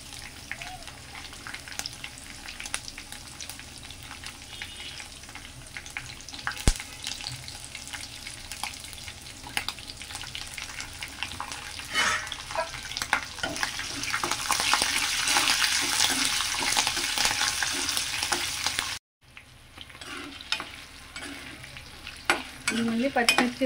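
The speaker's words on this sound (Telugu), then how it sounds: "మళ్ళీ పచ్చిమిర్చి పల్లీలు అన్నీ వేగిపోయాయి" Green chillies and peanuts fry and sizzle in oil in a pan while being stirred for raw mango pulihora, a continuous crackling hiss that grows louder midway, with occasional scraping of the spoon.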